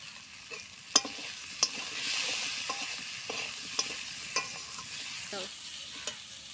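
Potatoes fry in a pan with fish, salt and turmeric under a soft sizzle, broken by a few sharp clicks and scrapes of a stirring utensil.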